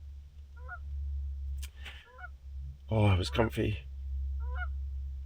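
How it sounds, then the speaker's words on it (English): Geese honk outside near a lake during a winter storm camping trip, several short nasal calls, moderately distant, with a louder cluster of honks midway over a steady low rumble; someone speaks briefly. "That's geese."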